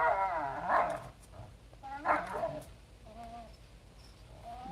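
Dogs on a property give a few short barks and whimpers in loose bursts, fairly close, with faint background noise and no talking.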